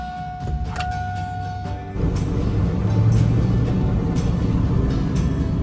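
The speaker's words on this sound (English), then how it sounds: "Sorry about the road noise. I had the windows open because it's so nice out today," Steady road noise and wind rush through the open windows of a moving car, a broad low rumble that swells louder after a couple of seconds and carries on continuously with no voices.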